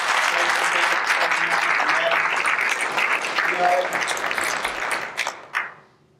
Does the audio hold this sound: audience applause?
yes